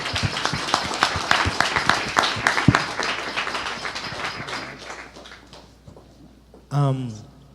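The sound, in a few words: audience applause for the panelists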